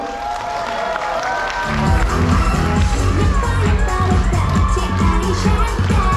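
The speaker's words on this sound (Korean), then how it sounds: "박수로 환영해 주십시오." Audience applause and cheering fill a hall at a kindergarten recital for five-year-olds, a dense crowd clapping that swells louder about two seconds in and continues steadily with scattered shouts and background babble.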